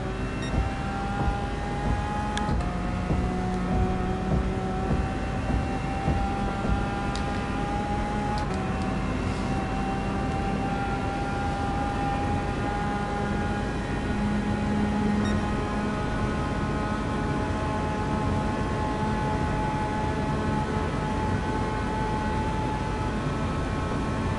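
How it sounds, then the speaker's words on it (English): A V12 car engine on a flying lap in a PS4 racing game, a steady high drone whose pitch climbs and resets through gear changes, loud and continuous with no talking. "you can just listen to the beautiful V12 instead"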